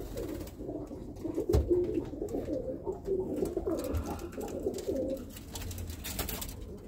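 Birmingham Roller pigeons coo softly in a loft, repeated low murmuring calls overlapping at close range, with a brief knock and light shuffling in the background.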